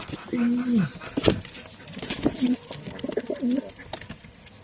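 Pigeons in a loft, with a pair sitting on eggs, give several soft, low, rolling coos close by, repeated in short bursts with light rustling and patter between them.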